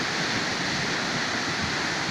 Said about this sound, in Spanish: Se está desbordando el río Meléndez.